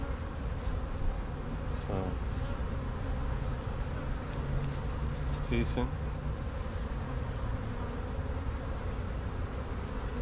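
Honey bees buzzing at an opened hive being built up for almond pollination, a dense, steady drone close by throughout, with a brief word spoken once.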